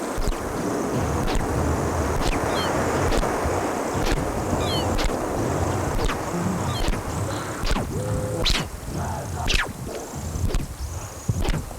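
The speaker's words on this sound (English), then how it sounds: "Waves." Ocean waves from a played commercial wash and roll steadily throughout, a continuous surf rush with wind noise and faint bird-like chirps.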